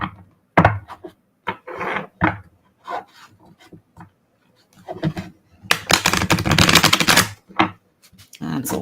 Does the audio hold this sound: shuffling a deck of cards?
yes